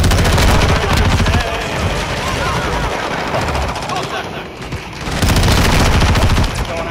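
Gunfire rattles through a Call of Duty Modern Warfare II match in loud, dense automatic bursts that ease off briefly near the middle before surging again, while voices talk over it.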